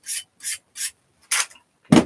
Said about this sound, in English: So now when I hone the blade, just spreading all the very fine metal shavings.